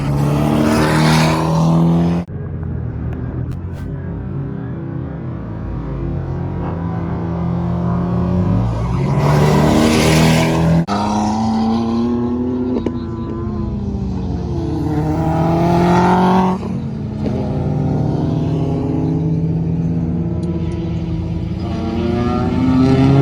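A Honda Civic EG Si with a B16 engine races around the Streets of Willow track, its loud, close engine climbing and dropping through the revs with sharp gear changes and steady high-rpm pulls, heard from inside the car.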